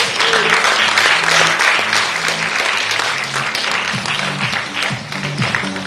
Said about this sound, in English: so give them a good round of applause